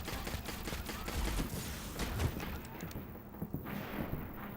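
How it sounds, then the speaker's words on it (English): Gunfire from the video game Destiny crackles in a dense, continuous fusillade of rapid shots, loud and close, with the firing thinning out briefly near the end. "I don't like the sound of the guns in this game."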